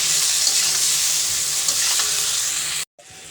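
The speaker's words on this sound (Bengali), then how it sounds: "আলুটি দিয়ে দিচ্ছি, মরিচের গুঁড়া দিচ্ছি, হলুদের গুঁড়া দিচ্ছি, দিয়ে এখন একটু নাইড়ে আলুটি কষাবো।" Potatoes fry in a pan with chili and turmeric powder, giving a loud, close sizzle with scraping stirs throughout, then a sudden brief drop to silence near the end.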